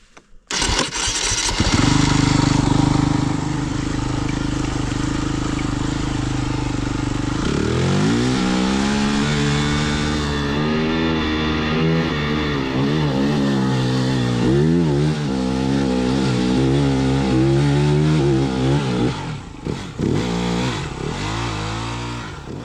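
A Honda XR650R dirt bike starts, idles, then revs and labours as it climbs a rutted hill, the engine loud and close with throttle surges and shifting pitch throughout.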